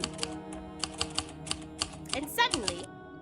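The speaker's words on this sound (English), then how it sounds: "you can actually hear noises of a typewriter" Typewriter keys clack in an uneven run of sharp strikes, with a brief whining vocal sweep near the end, fairly close and prominent.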